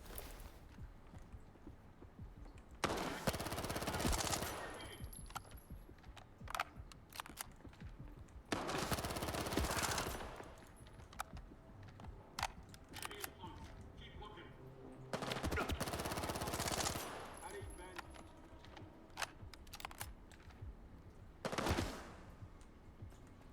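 Gunfire in Stalker 2: four loud bursts of rapid automatic fire, each lasting one to two seconds, separated by quieter gaps filled with scattered clicks, footsteps and game ambience.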